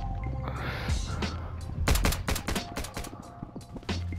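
Gunfire in Rec Room: a quick ragged burst of several sharp shots in the middle, with scattered thuds and smaller pops before and after, set in a busy, noisy scene.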